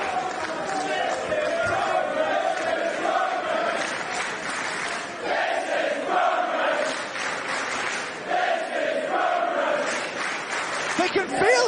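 A Progress Wrestling crowd roars and cheers after a brutal superkick in a women's match, a loud, swelling mass of voices and some clapping that rises and falls, with a commentator talking over it.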